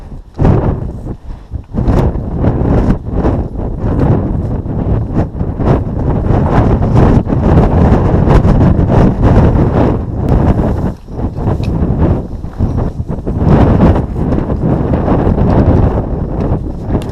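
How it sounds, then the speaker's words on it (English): Strong wind buffets the microphone on a mountain summit along the Alpine Trail of Camel's Hump, Vermont, loud rumbling gusts that roar and rise throughout with no voices. "It's pretty windy."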